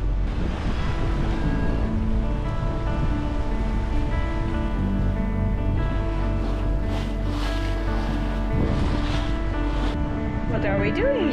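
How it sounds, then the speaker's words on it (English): Waves and a strong current rush around a sailboat leaving an atoll near Fakarava, producing constant loud washing and wind noise beneath an engine-like drone, with occasional splashes. "the current is really strong. You can really see it on the waves."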